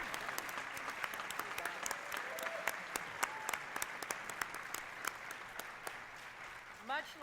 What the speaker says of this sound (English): please join me in another round of applause for this golden flock of